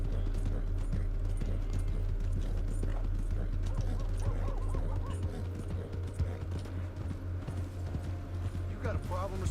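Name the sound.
horse galloping in a video game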